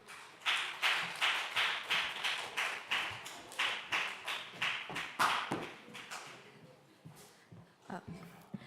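A church youth congregation at a Sunday service claps in a steady, rhythmic beat to welcome someone forward, fairly distant, then the clapping thins out and trails off into scattered taps.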